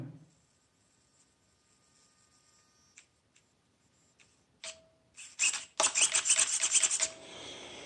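A cable rubs against the housing of a Tamiya VX-01 RC car, giving faint ticks and then a run of close, raspy scraping bursts.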